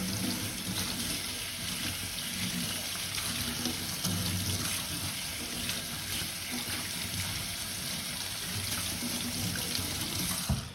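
Tap water runs steadily into a sink while cycling glasses are rinsed under it, a continuous close splashing rush with small shifts as the flow hits the lenses.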